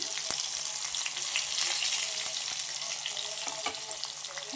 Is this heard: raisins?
yes